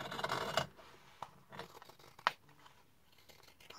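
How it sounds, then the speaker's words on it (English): Scissors snip through fabric during a fabric cover project, giving a few sharp, close, quiet cuts with rustling cloth between them. "this is where I take my scissors and cut it a little more even"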